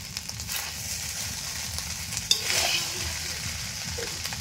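Fried rice with added fried vegetables being stir-fried in a rustic village kitchen, a steady close sizzle with scraping stirs and a sharper clatter midway, no voices.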